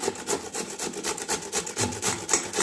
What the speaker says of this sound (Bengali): এই গ্রেটারে এইরকমভাবে ঘষে নিলেই কিন্তু খুব সহজেই